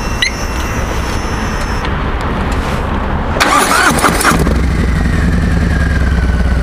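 Harley-Davidson motorcycle fitted with a Vance & Hines exhaust, loud and close: a steady engine rumble that swells into a sharp rev burst midway, then settles into a deep, continuous idle.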